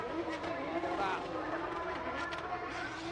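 A D1GP drift car takes a handbrake entry at Tsukuba circuit, driven by Hideyuki Fujino, a steady loud engine roar with broadband tyre noise throughout, and voices over it.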